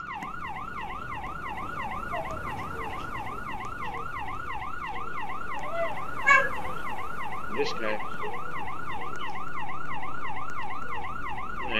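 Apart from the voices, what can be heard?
police siren in a video game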